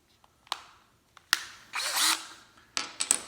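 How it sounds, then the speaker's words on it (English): A power drill spins a rifle cartridge case during neck-turning case preparation, giving several short separate whirring bursts with pauses between them, followed by a longer sustained run and two more brief bursts near the end. "use the drill a little to kind of spin it on there"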